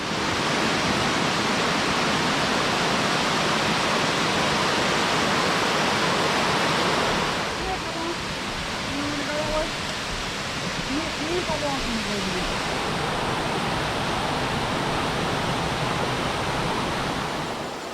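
Steady broadband rush of flowing creek water on a mountain Jeep trail in Georgia fills the whole clip, with faint chirpy sounds emerging in the middle.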